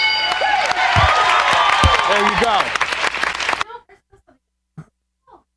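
A burst of crowd applause and cheering plays loudly with a voice over it, then cuts off abruptly, leaving a few faint scattered sounds.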